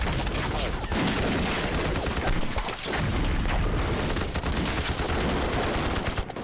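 Dense battle gunfire from a war film, with continuous overlapping rifle and machine-gun shots and booms forming a loud, unbroken wall of noise across the whole stretch.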